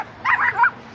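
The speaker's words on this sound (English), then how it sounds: "just got attacked by a little dog" A little dog lets out a quick burst of high, yappy barks, near and fairly loud, all over in under a second.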